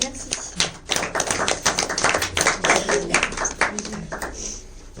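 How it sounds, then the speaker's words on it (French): Brief burst of applause from an audience, dense clapping for a few seconds that swells and then tapers off. "Et je vous prie de m'applaudir."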